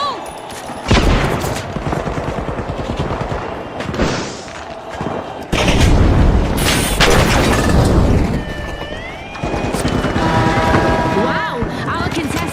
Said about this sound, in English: Frag incoming! Move!